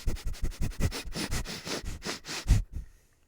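A dog sniffs rapidly and repeatedly at close range, a steady run of short breathy snuffles that stops abruptly near the end, with no talking.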